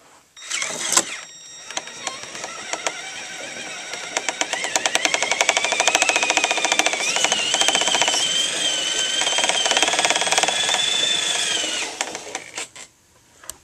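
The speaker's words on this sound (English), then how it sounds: "I'm doing another 90 pound tractor pull." A Traxxas Summit RC truck strains under a 90 pound tractor-pull load, its electric motor whining steadily at rising pitch with rattling drivetrain clicks, close and sustained for about eleven seconds before cutting off.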